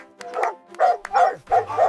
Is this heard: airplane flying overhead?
no